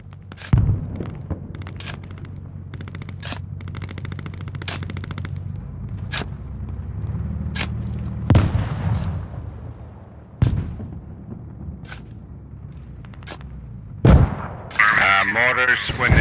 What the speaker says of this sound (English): there's another 3 rounds of HE coming in right now